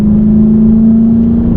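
A Lexus engine revs steadily under load while climbing a hill during street tuning, its even mid-pitched drone holding loud and close for the whole stretch with no talk over it.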